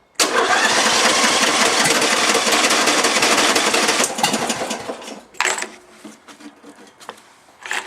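A small choked engine started and revved: a loud, dense mechanical roar for about four seconds, then it drops to uneven sputtering idle bursts.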